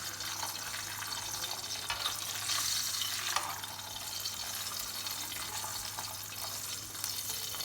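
A paratha fries in hot oil in a pan, giving a steady, bright hissing sizzle that holds at an even level throughout, with a low background hum and no talking.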